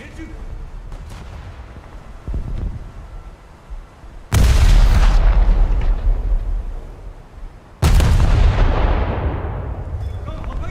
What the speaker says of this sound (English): Oh, that was a torpedo detonation.